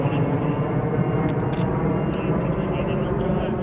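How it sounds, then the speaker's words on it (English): An airplane passing overhead, a loud continuous engine roar filling the scene throughout, with a few brief clicks on top. "we'll wait for that plane to pass."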